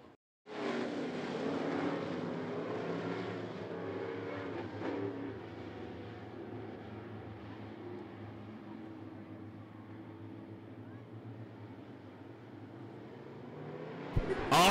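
A field of late model race cars rumbles at I-75 Raceway, a sustained loud engine drone from the pack holding steady for several seconds before fading, with a sharper burst right at the end.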